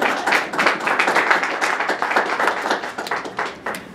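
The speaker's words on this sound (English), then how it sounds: "someone's clapping, we'll take that" Someone in the audience at a convention interview session clapping, a brisk, steady run of hand claps lasting several seconds, fairly close and clear, with no talk over it.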